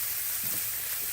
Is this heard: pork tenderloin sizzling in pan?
yes